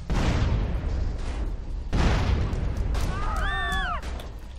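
A loud car explosion in GTA bursts out, followed by a second blast and a rising whistling tone, all over dense, rumbling game noise.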